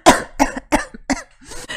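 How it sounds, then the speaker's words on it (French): Several harsh coughs from a woman in quick succession, loud and close, with short gaps between bursts and no talking. "décidément cette toux elle s'arrange pas"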